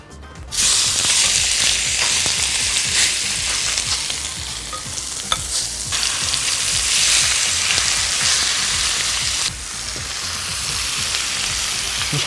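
Seasoned taco meat hits a hot pan and sizzles loudly, a dense, steady hiss of frying that carries on for several seconds with brief dips and no voices over it.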